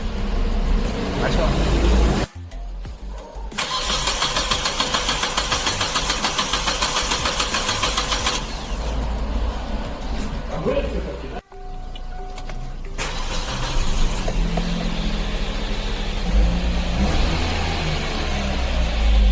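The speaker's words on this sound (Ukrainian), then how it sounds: "прокрутки стартером двигуна" A car engine that had trouble starting on petrol cranks with a whirring starter, pauses, cranks again, then catches and settles into a loud, steady running rumble.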